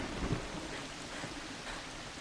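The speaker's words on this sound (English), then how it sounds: "She went out in the pouring rain to give Joseph food." Heavy pouring rain in an animated film, a steady dense hiss of falling water with a faint low rumble, continuous and moderately quiet throughout with no voices.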